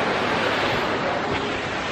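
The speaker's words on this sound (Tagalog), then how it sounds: "Malakas ng tubig." Strong sea waves by Fort Jesus in Mombasa make a steady, dense broadband roar of surf that stays loud throughout, mixed with wind buffeting the microphone.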